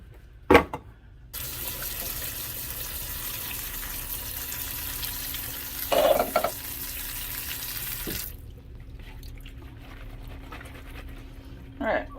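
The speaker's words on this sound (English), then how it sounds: "So I'm going to drain the corn and drain the black beans, drain and rinse the black beans" A kitchen tap runs steadily for several seconds to drain and rinse canned black beans in a sink, then shuts off; short knocks and clatter come before and after the flow of water.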